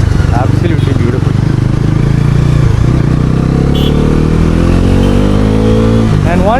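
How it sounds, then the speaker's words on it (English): Exhaust note of a 2025 NS 400 motorcycle while riding, a steady loud engine drone with rising revs toward the end, continuous throughout under talking. "The exhaust note is absolutely beautiful."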